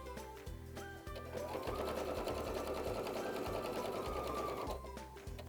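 Sewing machine stitching binding onto a quilt, a steady continuous motor hum with rapid needle rhythm running loud and close for most of the stretch, starting and stopping at the ends, with no talk.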